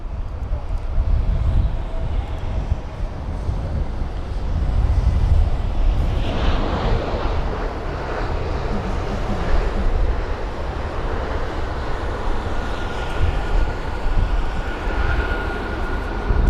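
A TAP Air Portugal Airbus A320neo lands on runway 27 right at London Heathrow, its engine roar rising and swelling through the middle amid gusty wind rumble on the microphone, with no talking.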